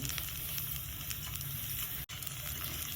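Onions frying in oil in a pan for a tamarind fish curry with ruba fish, a soft, steady sizzle and hiss at close range, broken by one very short dropout, with no voices.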